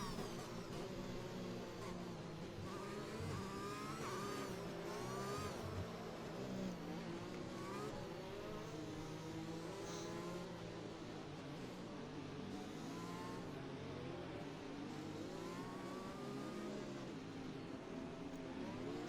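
Racing car engines in a league race of a racing video game, heard as a continuous dense drone with rising and falling revs from several cars, loud and steady throughout with no talk over it.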